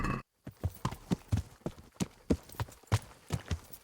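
Horse hooves clip-clop at a steady walking rhythm in Kingdom Come: Deliverance, each hoof strike clear and close, with a brief moment of silence at the start.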